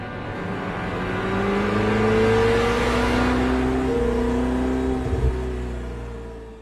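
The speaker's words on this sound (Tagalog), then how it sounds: "Pinaandar na ni Doc Gio ang sasakyan" A car engine starts up and revs loudly, rising in pitch as the vehicle pulls away, with a brief thump near the end before the engine sound fades slightly.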